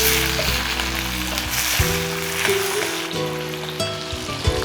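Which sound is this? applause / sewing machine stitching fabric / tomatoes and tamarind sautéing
tomatoes and tamarind sautéing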